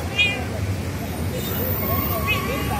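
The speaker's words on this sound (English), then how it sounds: "love to all the cats, including Mr. Socks, the High Court cat." A cat at the Bombay High Court meows a couple of brief times over a steady murmur of background chatter and distant traffic-like noise.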